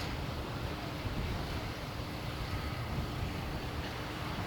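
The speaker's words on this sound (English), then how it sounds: "Hope you guys are hearing me clearly. It's very windy." Strong wind blowing at the Port Royal coastline in Jamaica, a dense, steady roar of gusts buffeting the microphone, loud and unbroken for the whole stretch.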